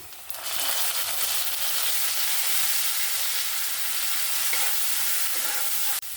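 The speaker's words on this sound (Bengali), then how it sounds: "বাটা পেঁয়াজটাকে আমি সুন্দর করে ভেজে নিয়েছি এক মিনিটের মতন লাড়াচাড়া করে ভেজে নিয়েছি" Onion paste fries and gets stirred in hot oil for a Bengali doi katla fish curry, a loud continuous sizzle with scraping spatula strokes throughout, close up and without speech, cutting off abruptly near the end.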